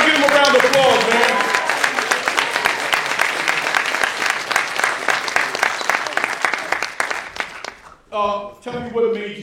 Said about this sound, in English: come on, everybody give him a round of applause, man.